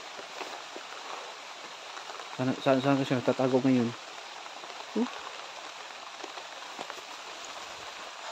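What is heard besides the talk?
rain falling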